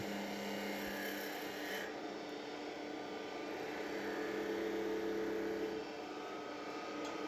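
Skew chisel shaving a small wooden birdhouse ornament body on a lathe, a steady continuous rasping hiss with a constant motor hum beneath, close and even throughout.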